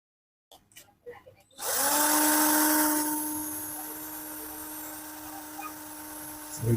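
A modified 12V cordless drill spins up to its second speed of about 1200 RPM after a few short clicks and bumps, then holds a loud, steady high whine that eases slightly, with no talking.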